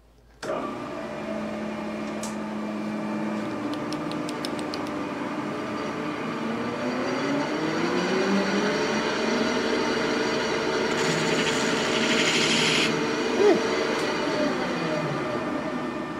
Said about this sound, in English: Didn't feel like it was cutting, more like it was grinding.